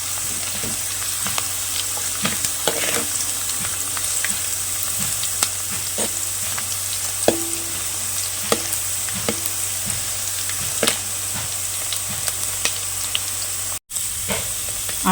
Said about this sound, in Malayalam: ഉള്ളി വാടാൻ വെച്ചിട്ടുണ്ട് കുറച്ച് ഉപ്പും കൂടി ഇട്ട് കൊടുത്തിട്ടുണ്ട്